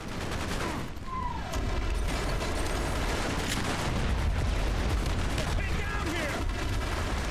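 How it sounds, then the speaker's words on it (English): Video-game combat with grenade explosions and gunfire: a constant, loud barrage of overlapping shots and heavy blasts that never lets up, with a voice faintly audible beneath. "Yeah, the grenades do seem less effective."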